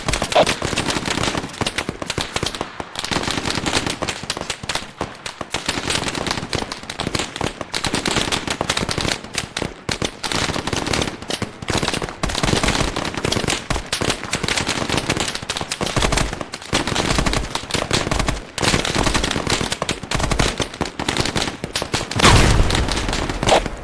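Sustained heavy gunfire from a firefight in the video game Arma 3 on the island of Altis, dense overlapping bursts and rapid automatic fire continuing loud and unbroken throughout.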